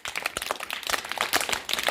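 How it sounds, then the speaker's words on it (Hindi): A small classroom audience claps for a fourth-grade schoolgirl before she tells her story, a brisk, steady patter of many hands that fills the short moment with no voices. "जोर से तालियां बजाइए इनके लिए"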